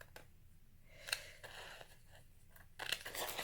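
Scissors trim a planner page by hand, with a few faint, close snips and soft papery scraping in a quiet room.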